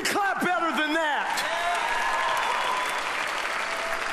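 A church congregation claps at a service, the applause building into a broad sustained wash after a short bit of voice with a few whoops, fairly even and continuous to the end.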